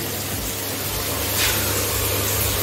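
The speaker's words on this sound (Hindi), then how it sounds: "साबर में पानी चलने लगता है।" Water running through a shower fed by a bathroom mixing tap with a diverter, a loud continuous hissing spray that swells slightly midway, with no talking.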